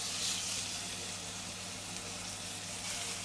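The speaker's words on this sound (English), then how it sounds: "let's sear these short ribs" Beef short ribs sear in a hot pan with a steady, loud hissing sizzle that stays constant and close throughout.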